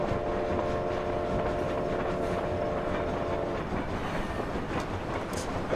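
A train rolls along the rails in the PlayStation 3 game Sly Cooper: Thieves in Time, in a Wild West level, a steady rumbling clickety-clack that carries on throughout with no voices.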